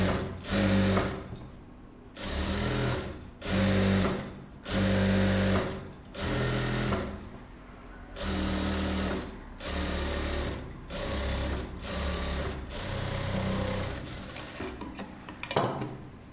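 A sewing machine edge-stitches a blouse in a series of short, rhythmic bursts with brief pauses between, close and steady, with no talking.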